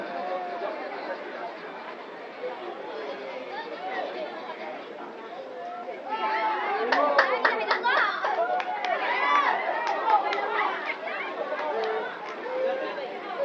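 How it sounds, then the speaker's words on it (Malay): A crowd claps at a stunt attraction show, sharp claps rising over steady crowd chatter and people talking midway through, busy and close throughout. "Tepuk tangan untuk klub Singandagan."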